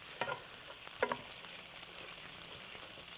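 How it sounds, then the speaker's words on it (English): Food being stirred in a cooking pot: a couple of sharp scraping strokes stand out near the start over a steady, close sizzling hiss that runs throughout, with no voices. "So we stir it a bit."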